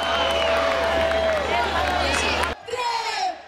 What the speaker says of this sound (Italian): fate un applauso a loro perché stasera ci divertiamo grazie a loro